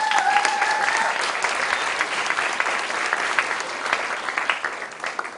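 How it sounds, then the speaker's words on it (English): An audience at a university event claps together in loud, sustained applause that stays dense throughout with only a slight easing near the end. "please give him a big round of applause"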